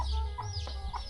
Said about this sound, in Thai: ไก่ตีใช่ไหมนี่